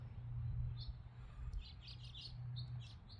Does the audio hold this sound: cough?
no